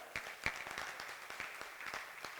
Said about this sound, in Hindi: एक बार तालियां बजाओ।